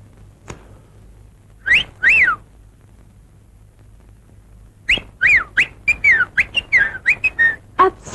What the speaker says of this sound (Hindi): आप सीटी बहुत अच्छी बजाते हैं।